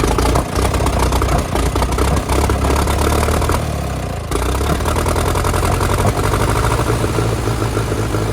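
A TEA 20 tractor engine with a fuel-related power problem runs close and loud in a steady chugging idle, briefly dipping before picking back up into its rapid, even rhythm.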